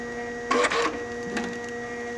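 A cab A4+M heat shrink printer, cutter and perforator runs in close, steady bursts of mechanical printing over a constant electrical hum, with a short pause partway through and a fresh burst right at the end.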